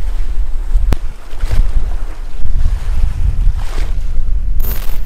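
Strong wind blowing across the microphone outdoors during a predator fishing competition, a loud, steady low rumble with gusts throughout and no talking.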